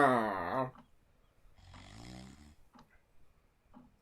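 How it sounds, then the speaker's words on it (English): A girl character in the video game Jenny LeClue snores with a deep, loud, rasping inhale, then a quieter drawn-out breath and soft clicks, close and alone. "For a little girl, she snores like a big man"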